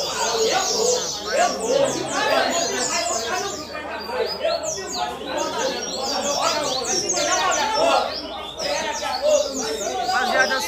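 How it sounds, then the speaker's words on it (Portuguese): Caged coleiro (double-collared seedeater) songbirds singing at a crowded outdoor bird-song contest with about fifty cages, dense overlapping chirps and trills running continuously and loudly, mixed with chatter from the crowd. "Coleirinho do nosso amigo Everton aqui, ó"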